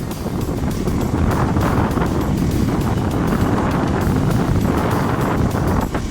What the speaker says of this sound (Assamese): কি বালিৰ ধুমুহা, একো ধৰিব নোৱাৰি।